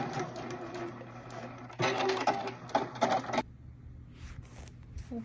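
A sewing machine stitches a tapered seam on fully lined pants, running in short bursts of rapid, steady whirring with a louder stretch in the middle before stopping, leaving only faint background sound.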